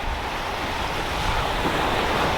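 Waves roll steadily onto South Sea Beach at the Blocks near the pier, a loud continuous surf roar with wind buffeting the microphone and no voices.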